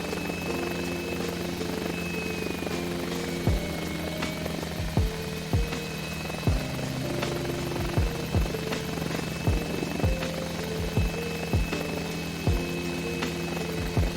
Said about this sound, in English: I actually really enjoy taxiing, I found out, in the heli.